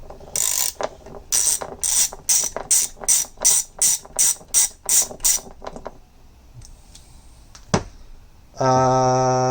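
A wrench loosens bolts on a 1966 Lawn Boy D-403 two-stroke engine during teardown: a close, loud series of about ten evenly spaced ratcheting bursts, then a quieter pause, a single sharp clank, and a steady humming tone at the end.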